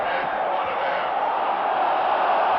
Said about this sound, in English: the crowd this early in the ball game saying go for it